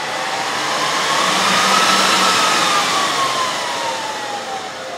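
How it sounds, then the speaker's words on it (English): Cooling fans of a Dell PowerEdge 2950 server spinning up: a loud, steady broadband whir, close by, that swells to a peak and then eases slightly. "open the top up and hopefully all the fans should spin up to their highest setting and you can hear how loud it is"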